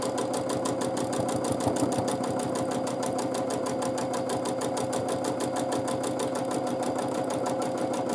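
A sewing machine stitches free-motion quilted feathers in a fast, even, continuous needle rhythm, close and steady throughout with no talking.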